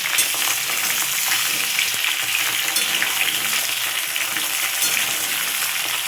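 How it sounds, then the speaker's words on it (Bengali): Cauliflower and potato pieces fry in spiced oil, giving a dense, continuous close sizzle with faint stirring clicks and scrapes throughout, with no talk. "একটু ফোড়নের মধ্যে ভেজে না নিয়ে মশলা কষানো যাবে না, যেহেতু আলু ফুলকপি সেদ্ধ হতে টাইম লাগবে।"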